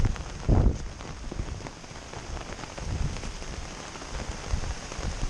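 A heavy downpour falls on a camping hammock as a steady close hiss, with a louder burst of drops early on and uneven swells of patter after that.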